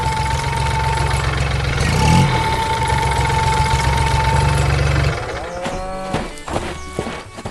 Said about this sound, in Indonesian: traktor hijau bermain di tengah sawah hijau, menggembur tanah dengan roda kuning yang ceria